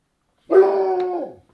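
A man imitates a dog with a single drawn-out, nasal woof-like howl, loud and close, rising abruptly and tailing off after about a second.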